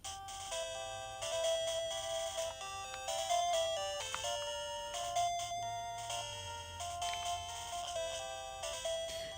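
Pokemon Blue music plays from an original Game Boy: a bright, chirpy chiptune melody of beeping square-wave notes over a steady bass line, continuous and fairly quiet throughout.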